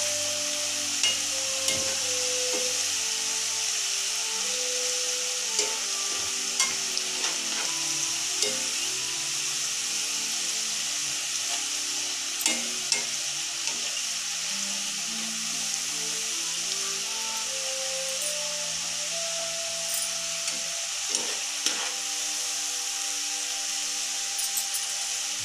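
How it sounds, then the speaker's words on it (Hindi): Besan khurme (gram-flour snacks) frying in hot oil and turned repeatedly, a steady bright sizzle running throughout with scattered clinks and scrapes of the utensil, close and fairly soft, no talking. "इसे हम पलट पलट के अच्छी तरह से इसे फ्राई कर लेंगे।"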